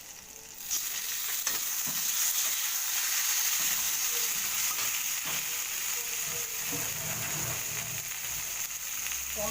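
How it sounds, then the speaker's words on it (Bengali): Tomato fries in a little oil in a kadai with panch phoron, making a loud, continuous close sizzle with occasional soft stirring knocks throughout. "টমেটোটা ভাজা ভাজা হয়ে যাবে গলে যাবে"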